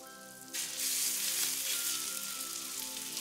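Dove pepper poppers drop into a hot skillet, and a sudden loud sizzle rises and holds steady as they fry.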